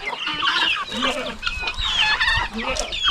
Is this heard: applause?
no